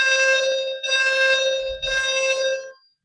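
A building fire alarm under test blares in three long, loud ringing bursts with short gaps, harsh and close, then stops abruptly.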